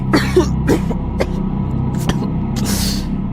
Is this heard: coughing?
yes